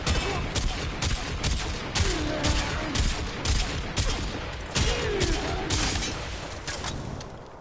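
Rapid, dense bursts of Quartakk rifle fire in the Warframe video game, one sustained volley of overlapping shots with brief gaps, mixed with game effects and some speech.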